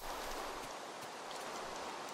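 Steady rain pouring down in the video game Minecraft, a dense even hiss of drops that is continuous and fairly close, with no talk.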